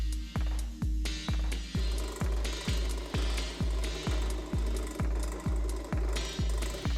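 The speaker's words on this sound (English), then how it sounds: "I can drill recesses to accommodate the belt" Aluminium bar stock is drilled to cut recesses, with a rhythmic machine thump repeating about twice a second under a bright metallic whine, steady and close with no voices.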